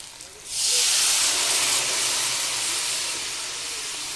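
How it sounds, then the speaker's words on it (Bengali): Water poured into a hot pan of potatoes fried with spices for a thin rohu fish curry, hotel style, bursting into a loud, steady sizzling hiss that slowly eases. "এবার পরিমাণ মতন জল দিয়ে দেবো।"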